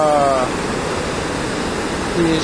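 A rushing mountain river, the Gave de Pau at Lourdes, gives off a dense, loud, steady roar of churning water. A voice speaks briefly at the start and again near the end.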